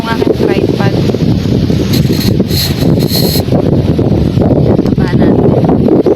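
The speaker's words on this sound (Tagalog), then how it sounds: "Medyo mahangin dito na uga itong aking tripod." Strong wind gusting at a beach buffets the microphone and shakes a tripod, producing a loud, continuous roar of rumbling wind noise with brief higher-pitched rattles.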